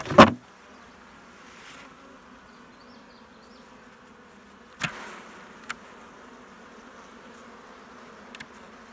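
Honeybees from a sick hive drone in a faint, continuous buzz close by, broken by a few sharp knocks and clicks of hive equipment.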